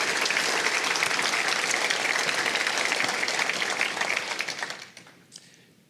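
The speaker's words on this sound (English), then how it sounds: "A round of applause for all of our newest members." Audience applause for new members at a mayoral debate breakfast event, a steady, dense crowd clapping that sustains loudly for several seconds before tapering off and fading out near the end.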